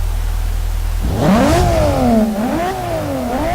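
A 2.6-litre twin-turbo inline-six engine in a 2002 Nissan R34 GT-R in Forza Motorsport idles low, then revs up sharply and holds a rising, falling growl, close and loud.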